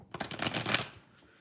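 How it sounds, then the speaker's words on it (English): A tarot deck being shuffled close up in one quick riffle, a dense fluttering burst of card slaps lasting under a second before fading to quiet. "I'm just going to shuffle 3 more times, and then we're going to shuffle the Barbie deck real quick"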